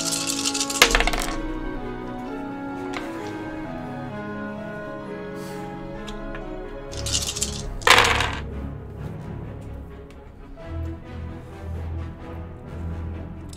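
Dice rattling and clattering as they are rolled, a few sharp bursts of tumbling clicks over soft background music.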